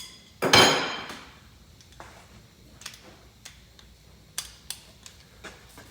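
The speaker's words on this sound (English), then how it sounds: "Breaker bar should get it loose pretty easy." A breaker bar loosens a bolt during a car CV axle change: one sharp metallic crack as the bolt breaks free, then scattered light clicks and taps of the tool in a quiet garage.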